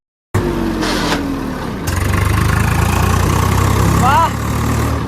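A Swaraj 855 tractor engine idling close by, a loud steady low rumble with a slight rise partway through, with brief voices heard over it.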